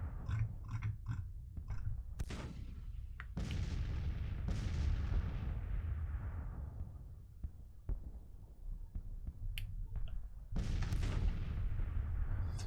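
Artillery guns fire in a Grand Tactician Civil War battle: heavy, booming shots land at irregular intervals, each followed by a long rolling decay, over a steady low rumble of distant battle noise.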